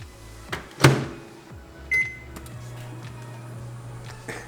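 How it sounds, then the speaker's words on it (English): A combination oven fan-blowing hot air while its turntable rotates, roasting crispy pork belly at 190 °C: a steady low hum with a few door or latch clunks and faint clicks near the start. "It's actually going to blow the hot air as well as rotate."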